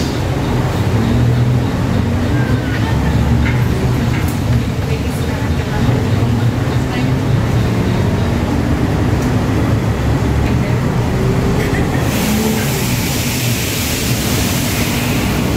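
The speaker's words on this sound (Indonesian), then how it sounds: "Oke, kita sudah di bus." Steady low rumble of a moving Transjakarta busway bus at night, heard from inside the cabin, with continuous engine and road noise throughout.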